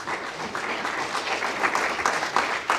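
Church congregation applauding during a Spanish-language sermon on creation and sin, steady dense clapping at a moderate distance with no break for the whole stretch.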